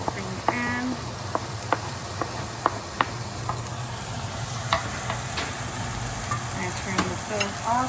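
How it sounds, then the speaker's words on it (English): Mushrooms and minced garlic sizzle steadily in a pan, with a continuous crackling fry broken by several sharp clicks and scrapes of stirring, close and fairly loud with no talking. "the mushroom here. At the same time, I'm also going to add in the garlic as well."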